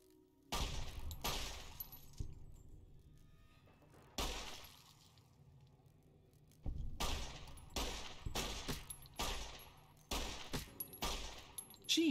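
Gunfire in the video game Fallout: The Frontier, shooting at a mantis: bursts of rapid shots and single cracks in several clusters, crisp and close, with quiet gaps between the volleys and no talk.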